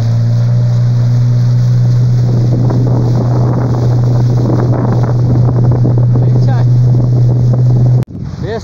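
Strong wind blasts across the microphone on the Jacuí River from a boat, a loud steady roar with a low motor drone underneath that cuts off abruptly near the end.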